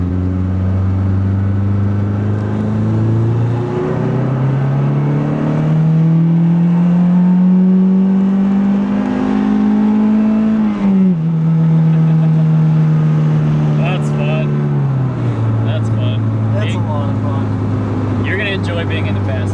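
A turbocharged Mazdaspeed3 accelerates hard in second gear, its engine note climbing steadily with a brief dip at a shift, loud and continuous from inside the cabin, with voices speaking over it.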